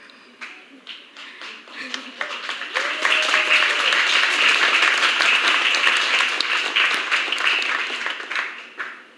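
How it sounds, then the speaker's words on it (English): A church congregation claps for the choir at a solemn Eucharist celebrating a first profession, the applause swelling after a few seconds, holding steady and loud, then tapering, with some talk over the start. "I haven't asked them to give you a round of applause, but they already do it"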